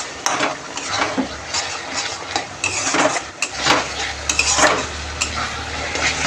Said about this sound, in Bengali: এবার এটাকে ভালোভাবে কষাতে হবে